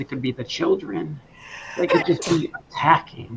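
A single sharp sneeze bursts out midway through a tabletop role-playing session, close and loud, with people talking before and after it.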